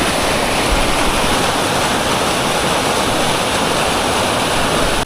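A fast-flowing glacier stream near Gilgit rushes past up close, a loud, constant roar of churning water with no break and no voices.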